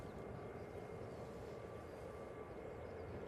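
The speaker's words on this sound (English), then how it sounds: "This TUI now on the roll is off to Shams," TUI Boeing 737-8 on its takeoff roll at Manchester Airport, a distant, steady broadband jet roar that holds evenly throughout, faint, with no voices.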